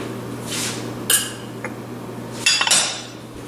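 A utensil chops through softened butter in a bowl, giving a few sharp clinks and taps against the bowl among quieter scraping, close by with no talking.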